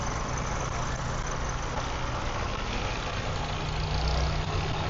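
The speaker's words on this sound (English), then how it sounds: "You see our truck right there. It's just leaving." A truck engine running as the truck pulls away from a house construction site in the Philippines, a steady broadband rumble with a constant low hum and no voices.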